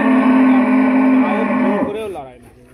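A Jersey milking cow lets out one long, loud, close moo that holds a steady tone before bending and fading away.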